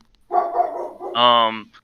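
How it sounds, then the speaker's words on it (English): A pet dog barks at home behind a gaming session, a short muffled woof followed by a longer, tonal yelping bark, fairly close but moderate in level. "Sorry, my dog is barking."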